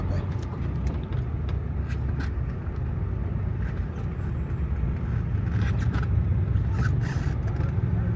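Road traffic on Park Road, running one way instead of two during construction work, forms a continuous rumble of passing cars with occasional louder swells and scrapes, steady and moderately close throughout.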